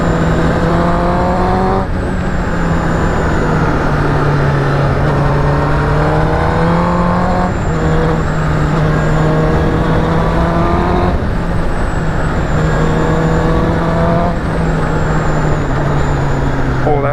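A 2019 Honda CBR1000RR Fireblade sport motorcycle being ridden, its engine note loud and continuous, rising in pitch through each gear and dropping at several upshifts, with wind noise throughout.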